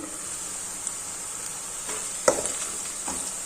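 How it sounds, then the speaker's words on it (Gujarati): Onions sautéing in a pan for sing bhujiya shak give a steady, faint sizzle with a few soft stirring scrapes and one brief clink, with no talk. "ડુંગળીને થોડી વાર સતળાવા દેશું"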